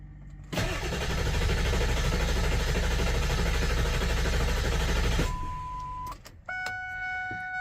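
A Ford 7.3 Powerstroke diesel engine cranks loudly and steadily for about five seconds without starting, then cuts off, leaving a few sharp electronic beeps and chimes.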